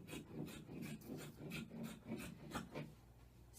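Scissors snip around shirt fabric in a steady run of about a dozen quiet, closely spaced cuts, each with a soft papery rasp, faint and close with no talking.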